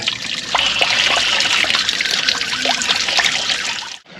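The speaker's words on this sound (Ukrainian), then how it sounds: "в південних містах завжди повинна бути вода. Тече. так як може, так і тече." Water runs steadily from an outdoor spout or channel in a southern Balkan town, a continuous splashing trickle heard alone and fairly close, cutting off abruptly near the end.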